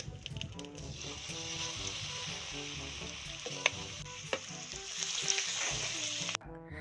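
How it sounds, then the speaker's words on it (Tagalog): Pork liver hits very hot oil and fries with a loud, steady sizzle, crackling and spitting throughout, with a few sharp pops and stirring scrapes before the sizzle cuts off near the end; no one speaks. "At imikos-mikos nga natin to saglit bago natin prituhin sa napakainit na mantika"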